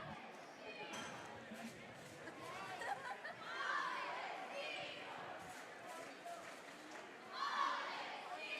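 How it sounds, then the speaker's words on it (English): Crowd chatter fills a gym as spectators keep arriving during a timeout at a girls and boys varsity basketball game, Mattoon at Mahomet-Seymour, a steady murmur of many voices with scattered laughter swelling now and then. "Crowd's still filling in."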